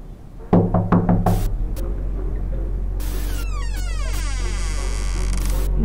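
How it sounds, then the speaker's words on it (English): A quick series of about five sharp knocks on a door in the video game Amanda the Adventurer, loud and close, followed by sweeping electronic chirps and a steady low hum with no talking. "Knock on the door!"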